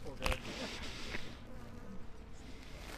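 A honey bee at a hive during a beekeeping workshop gives a faint, steady buzz, with a few soft knocks and handling sounds at the start.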